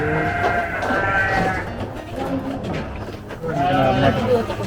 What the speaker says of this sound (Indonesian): kita ada domba lokal dulu ya, sama cross merino ataupun dombos